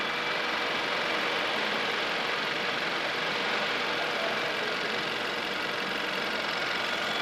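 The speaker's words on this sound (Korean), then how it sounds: "우선 엔진 소리 먼저 한번 들려드릴게요." A 1.5-liter turbocharged car engine idles with the hood open, giving a steady, even hum with no change in loudness throughout and no voices over it.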